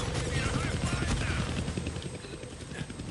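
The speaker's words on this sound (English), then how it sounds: "I can't kill that chopper with my gun." Helicopter rotor noise from the Deadpool video game, a steady broadband chopping drone filling the clip with game effects layered over it, no clear speech.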